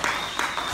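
A church congregation in Los Angeles claps during a Sunday service: a short, dense burst of applause-like clapping, moderately loud and without any clear speech.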